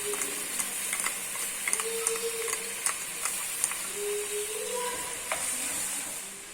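Coarsely ground garlic and green chili frying in a pan, a steady close sizzle with light scraping and stirring clinks over a faint background hum, with no voices.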